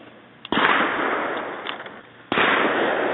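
A Sig 226 pistol fires two sharp shots spaced about two seconds apart, each loud blast trailing off into a long, echoing decay.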